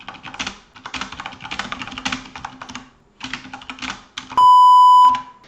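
Trading software on a computer gives one sustained electronic alert beep near the end, coming in after bursts of close keyboard typing.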